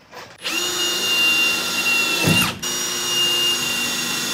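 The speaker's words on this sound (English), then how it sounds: "I love drilling holes" A power drill whirs steadily at high speed, briefly cuts out, then keeps running close by inside a school bus being converted, with no talking.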